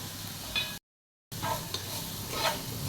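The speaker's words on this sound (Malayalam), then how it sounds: "ഇനി നന്നായി ഒന്ന് ഇളക്കിയെടുക്കുക" Onions being stirred in a pan while cooking Thalassery-style chicken dum biryani, with a soft sizzle and scraping strokes, briefly cut to silence midway, then resuming with a few louder stirs.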